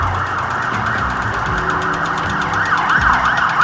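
A wailing emergency siren, most likely an ambulance, rises and falls steadily over loud street traffic, sustained and fairly close throughout.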